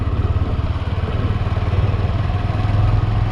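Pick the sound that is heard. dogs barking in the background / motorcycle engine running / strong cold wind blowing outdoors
motorcycle engine running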